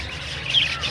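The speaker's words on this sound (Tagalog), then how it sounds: "So ito yung pinaka African lovebirds, yung pinaka common na lovebirds." Common African lovebirds crowd an aviary full of birds, their high, busy chirps and squawks overlapping in a continuous close chatter over a brief moment.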